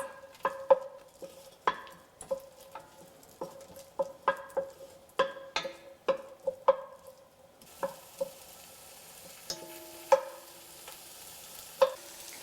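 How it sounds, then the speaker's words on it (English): Onion sautés for a vegan kale and potato soup, with a soft sizzle in a pot broken by repeated sharp spoon taps and scrapes against the metal, close and without talk. "So I'm going to go ahead and saute this."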